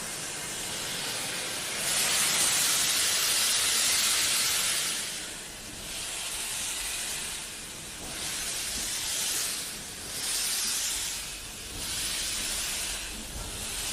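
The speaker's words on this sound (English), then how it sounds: "Still got the cylinder cocks open at the moment because it's cold and wet." A steam locomotive, one of the Standard engines, hissing loudly from open cylinder cocks on a cold, wet day, with bursts of steam rising and falling in a regular rhythm.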